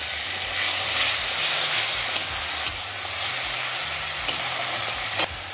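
Ground mustard paste hits hot oil already spiced with nigella seeds and slit green chillies, giving a loud, steady frying sizzle with a few sharp spits and pops throughout.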